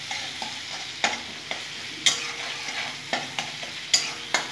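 Tomato with salt, turmeric and Kashmiri chilli being sautéed in oil, a steady close sizzle punctuated by regular sharp knocks and scrapes of a spoon stirring the pan.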